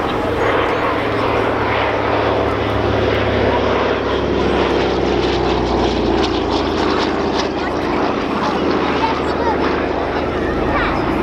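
Douglas C-47 Dakota piston-engine propeller aircraft droning steadily overhead at the Dunsfold Wings & Wheels air display, loud and continuous with a slowly shifting pitch as it passes.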